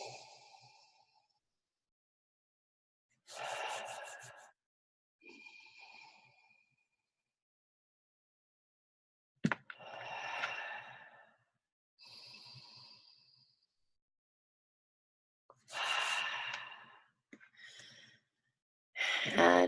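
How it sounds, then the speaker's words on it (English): Several slow, deep breaths drawn in and let out during a guided breathing exercise, each a soft airy swell separated by long quiet pauses, close and fairly faint. "Take 3 deep breaths."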